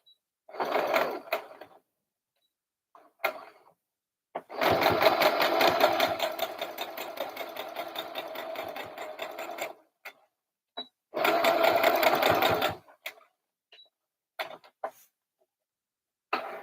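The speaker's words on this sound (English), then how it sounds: "let's go over to our sewing machine now." A sewing machine stitches a doll top in two sustained runs, one about five seconds and a shorter one after it, its needle rattling fast and close, with brief handling clicks and rustles between runs.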